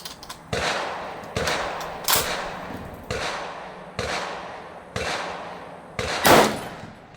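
An M1 Garand rifle fires six sharp, loud shots spaced about a second apart, each followed by a short decaying echo, with no talking.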